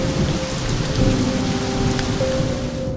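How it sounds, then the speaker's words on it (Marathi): Heavy monsoon rain pours steadily and loudly before dawn in a hillside village, a dense unbroken wash of downpour with a low rumbling undertone. "जणू आभाळ कोसळावं तसा पाऊस कोसळत होता"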